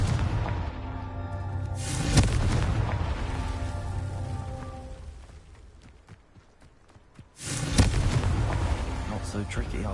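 In the Hogwarts video game, a Confringo spell sets off explosive booms: two loud bursts with rumbling decay and a quieter lull between them.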